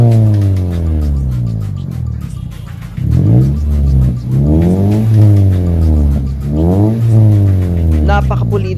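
A Toyota Vios fitted with an HKS Hi-Power aftermarket muffler, the engine idling then revving repeatedly in rising and falling sweeps, loud and close, with a deep raspy exhaust note.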